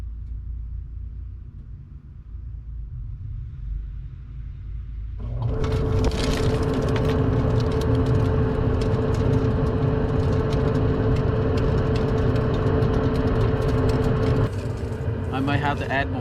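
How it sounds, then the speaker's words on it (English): Household clothes dryer switched on downstairs, a deep steady rumbling hum that starts abruptly after a quieter stretch and drones loudly for about ten seconds before easing slightly, with a person speaking softly beforehand. "I'm gonna go downstairs and turn on the dryer."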